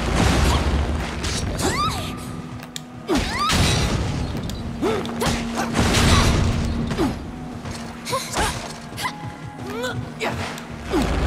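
A ship's cannon reloads during a Kraken battle in the Dragon's Crown video game: repeated mechanical ratcheting and clanking over game sound effects, loud and busy throughout.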